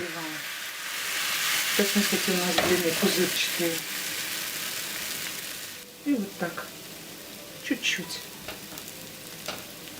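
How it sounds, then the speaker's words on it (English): Thin pancake batter sizzles steadily in a hot oiled pan, a bright hissing fry that continues throughout, with a voice speaking over it. "Do not fry for a long time. Flip our pancake and briefly fry the other side."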